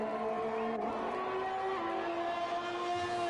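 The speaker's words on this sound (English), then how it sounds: "We'll go to Jeremy, who's about to start a flying lap now in the Ferrari" A Ferrari Formula 1 car in the F1 2021 video game on a flying lap in Canada, its loud high-pitched engine whine holding steady and then shifting through gears, close and continuous, with no talk.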